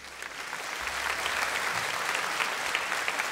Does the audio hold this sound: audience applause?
yes